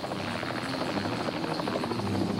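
Helicopter in the action film Hands of Steel, a steady, loud rotor drone with rhythmic blade chop holding throughout without a break.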